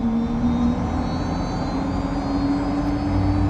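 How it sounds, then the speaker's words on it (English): Jet engine number one of a Fokker 100 airliner spooling up during start, heard from the cockpit as a steady, loud whine with a continuous low rumble and rising tonal hum, with no talk over it. "Starting engine 1."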